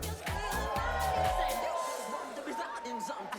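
Wedding reception guests raise a burst of crowd noise, with whoops, cheers and lively chatter from many voices filling the room at a steady, fairly loud level.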